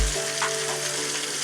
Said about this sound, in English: my first batch of chicken is in frying